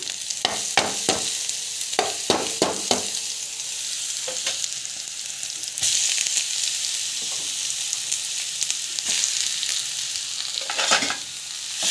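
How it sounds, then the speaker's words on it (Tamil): Chana dal with shallots and garlic sautéing in a pan for beetroot poriyal: a steady close sizzle broken by repeated scraping stirs of a spoon, no talking. "கடலைப்பருப்பு நல்லா வந்து வதக்கிட்டுருங்க."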